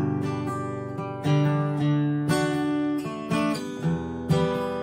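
Steady strummed guitar chords, repeated strokes in a regular rhythm with bright accents on some strums, played close and alone without voices.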